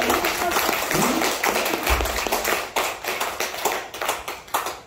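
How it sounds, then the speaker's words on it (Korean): A church congregation applauds during a Sunday worship service, with many hands clapping in a dense, fairly loud patter that turns into a rougher, rhythmic beat toward the end. "박수를 쳐주시면 대단히 감사합니다."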